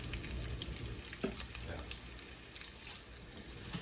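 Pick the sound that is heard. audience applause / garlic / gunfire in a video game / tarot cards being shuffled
garlic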